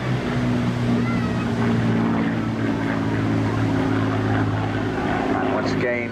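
A Hawker Hurricane propeller fighter passes at a coastal airshow on the English Riviera, its engine drone loud and sustained with a steady hum and shifting pitch, heard alone from start to finish.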